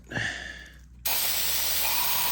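Brake parts cleaner sprayed from an aerosol can into a thermostat housing of a GMC Savana / Chevy Express van: after a brief quieter moment, a sudden loud, close, continuous hiss starts and holds steady.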